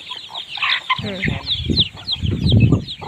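Chickens cluck and chatter close by at a rural home in the evening, a busy overlapping flock with soft calls and rustling.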